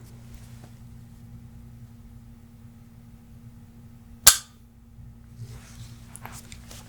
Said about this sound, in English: Listen to this trigger pull.